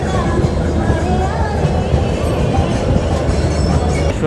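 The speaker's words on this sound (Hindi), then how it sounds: "उड़ीसा की राजधानी भुवनेश्वर हमारी ट्रेन पहुँच चुकी है।" The Yesvantpur Howrah AC Express pulling into Bhubaneswar railway station, with a loud, continuous rumble of wheels on rails, clattering carriages and faint squeals, heard from on board the train.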